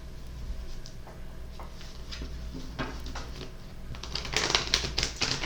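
Tarot cards being shuffled by hand, a run of quick papery riffles and taps over a low steady hum, close and growing louder toward the end.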